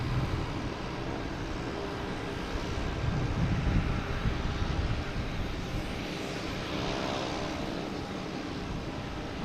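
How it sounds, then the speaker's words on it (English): A JetBlue airliner comes in to land at Boston Logan Airport, a broad distant engine roar and rush that swells slightly, then holds steady under light wind noise. "Could this be the last JetBlue that will land on September 9th from JFK?"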